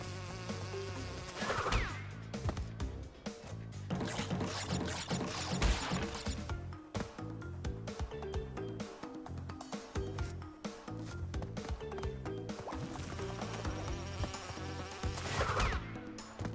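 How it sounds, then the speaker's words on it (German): Insect-like buzzing from bees in the platform game Crash Bandicoot 2, N. Sane Trilogy version, droning steadily under busy game music and effects, with louder swells near the start and end. "Oh, hier gibt's doch Bienen."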